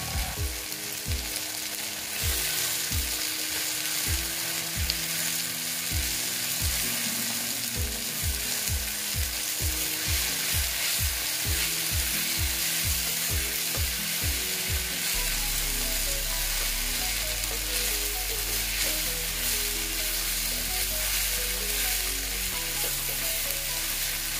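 Okra and egg frying in a pan give a steady, continuous sizzle that runs through the whole stretch beneath loud, rhythmic background music.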